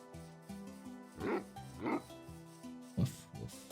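A dog barking in Minecraft, several short barks spaced irregularly over steady, gentle in-game music.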